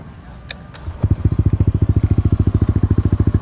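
A Yamaha Aerox scooter with a 200cc bore-up engine is close by. After a couple of faint clicks, its exhaust settles into a loud, even, rapid thumping pulse.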